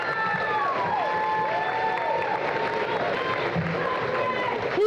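Audience at an award ceremony cheering and clapping for a recipient, with whoops and shouted voices rising over steady crowd noise, moderately distant.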